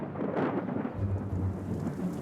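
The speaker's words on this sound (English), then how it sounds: "Quite fun painting in a thunderstorm, isn't it?" Thunder rumbles through an outdoor thunderstorm with rain falling, a steady low rolling roar and hiss of rain filling the whole stretch with no talk.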